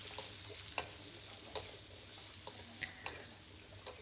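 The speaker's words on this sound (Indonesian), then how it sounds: "ini kita tumis dulu beberapa saat ya" Green beans, carrots and shrimp stir-fry in a pan with a soft, continuous sizzle, marked by scattered light taps and scrapes of a utensil against the pan, with no talking.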